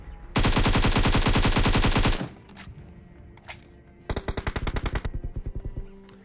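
Rapid automatic gunfire in BGMI, a loud sustained burst of about two seconds, a few scattered shots, then a second shorter rhythmic burst near the end.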